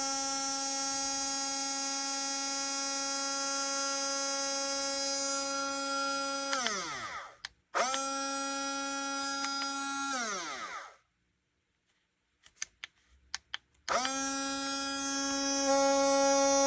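A YFIXQNSU portable personal-size blender whirs with a high motor whine in pulse mode, running steadily, winding down, restarting, stopping again, then spinning back up, close and alone without speech.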